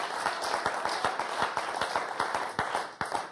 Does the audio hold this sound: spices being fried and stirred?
no